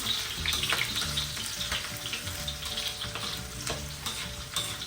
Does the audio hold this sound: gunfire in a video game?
no